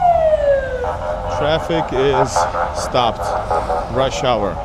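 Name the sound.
Russian police car siren in Moscow street traffic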